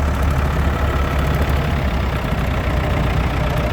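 A 1984 Ford 5610 tractor idles at a steam rally parade, a steady low diesel rumble running loud and unbroken with no talk over it.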